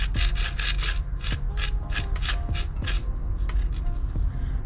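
A greased part on a Traxxas Stampede rear module is spun by hand, giving a quick series of close, rhythmic rubbing and rasping strokes with small clicks between them.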